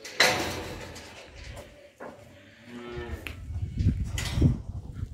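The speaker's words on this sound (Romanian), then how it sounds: "Avem și văcuțele." Cows on a farm mooing, one drawn-out low call at the start followed by further lowing later, close by with faint voices and background noise.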